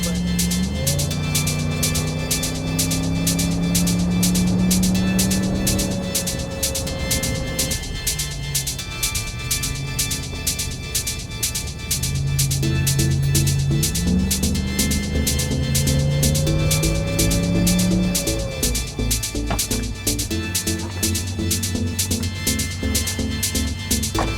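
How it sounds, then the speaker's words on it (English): Steady engine drone and broad air rush fill the cabin of an old rebuilt BMW on the road, the engine tone rising and falling with throttle changes and staying loud throughout. "There's a little bit of an air rushing noise."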